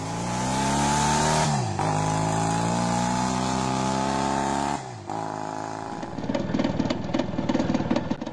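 A 1960s British Jubilee 250 motorcycle engine drones steadily at a held pitch, dips briefly twice as the revs drop and recover, then settles into a rougher, crackling idle-like note toward the end.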